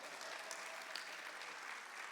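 Dense, steady applause from a comedy-show audience fills the whole stretch, loud and sustained without a break.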